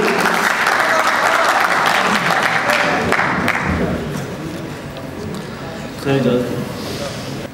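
Audience applause for poet Anjum Farooq at a Sufi mushaira at Lahore Sufi Festival: loud, dense clapping from a crowd that fades down midway, with voices and a brief burst of talk near the end.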